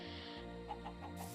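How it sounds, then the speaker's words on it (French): Chickens in the Minecraft video game give a few quiet clucks over a sustained background music drone, faint and without speech. "il y a des poulets de couleur"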